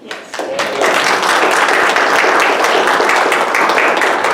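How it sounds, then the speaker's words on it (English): At a sheriff's candidate forum, the audience claps for the panelists, a loud, full round of applause that swells within the first second and stays dense and steady. "a big round of applause for the panelists"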